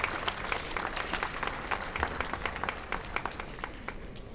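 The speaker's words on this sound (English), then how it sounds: "Once again, a big round of applause" A summit audience gives a round of applause, steady moderately loud clapping from a crowd that continues evenly throughout.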